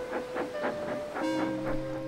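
Steam engine Thomas wheezing along the rails, a rhythmic chuffing of about six puffs with a rail clatter beneath, then a sustained whistle-like tonal hiss taking over, steady and fairly close.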